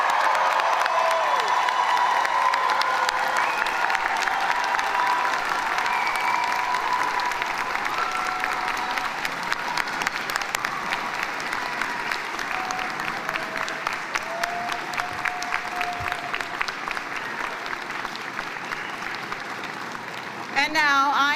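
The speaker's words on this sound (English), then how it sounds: "join in applauding the graduating class of June" Sustained applause from a large convocation audience honoring a graduating class at a university ceremony, steady and dense for about twenty seconds with scattered cheers and whoops, close and full throughout.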